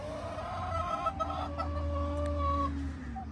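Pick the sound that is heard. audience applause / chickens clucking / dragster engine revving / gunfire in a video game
chickens clucking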